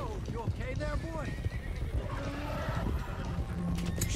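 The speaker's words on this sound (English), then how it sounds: "Let's get these horses to Clemens Cove." Horses whinny and neigh in Red Dead Redemption 2, with repeated loud, wavering calls up close, hooves clip-clopping underneath and game speech talking over the herd.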